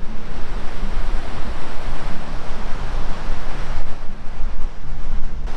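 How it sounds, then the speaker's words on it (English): Ocean waves break and wash steadily onto a beach beside a motorcycle route near Dakar, a loud, continuous roar of surf mixed with wind noise on the microphone, with no voices. "have a look at how close we are to the ocean"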